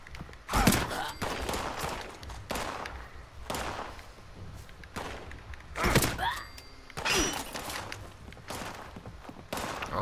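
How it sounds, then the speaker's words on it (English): Pitchfork melee swings in the video game Fallout 76 land as a series of heavy thuds and whooshing impacts at irregular intervals, mixed with busy in-game combat noise and clatter. "let's test this pitchfork out then"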